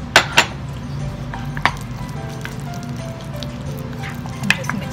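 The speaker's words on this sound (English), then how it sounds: "And just mix again" Seasoned food dressed with lemon and salt is stirred in a dish, with a few light clinks of a utensil over a low rumbling background and a voice speaking.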